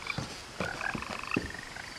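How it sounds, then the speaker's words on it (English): Frogs in What Remains of Edith Finch croak in scattered, overlapping short calls, moderately close, with a few higher chirps mixed in and no voices. "I can hear frogs actually."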